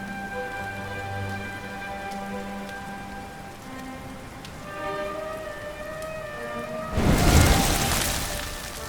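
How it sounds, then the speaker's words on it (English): Steady rainfall hisses over the Dragon Quest XI S soundscape with sustained musical tones, swelling into a louder burst of rain near the end. "Looks like the rain's dying down."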